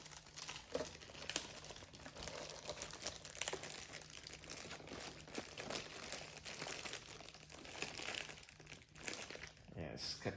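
A plastic bag crinkles and rustles in irregular close bursts while an Amcrest NVR is unboxed, with a person talking softly alongside.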